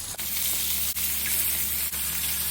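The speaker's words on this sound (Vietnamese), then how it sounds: "Dầu nóng rồi thì Quỳnh sẽ cho tôm vào chiên." Large flour-coated shrimp deep-fry in a pan of hot oil with a steady, dense sizzle and crackle that stays loud and even throughout, with no talking.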